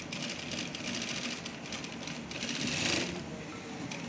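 A sewing machine stitches a gents suit or kurta, running steadily with a dense rapid whirring clatter, close and even throughout, with a slight swell near the end.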